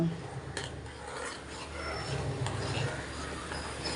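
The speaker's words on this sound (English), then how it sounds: "After adding the curd, you have to stir it because we have added gram flour in this." Curd mixed with gram flour is stirred in a pot for banana flower pakoda kadhi, giving soft continuous scraping and rubbing of a spoon against the pot with faint clinks, close and fairly quiet.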